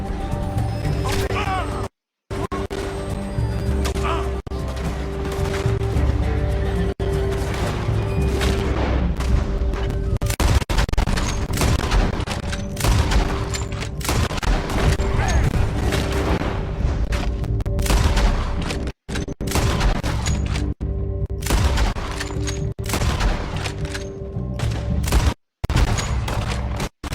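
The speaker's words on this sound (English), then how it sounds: "We gotta shoot those folks." Gunfire during a train robbery in Red Dead Redemption 2: ragged volleys of shots and booms, loud and nearly continuous, broken by a few brief silent gaps, with voices talking throughout.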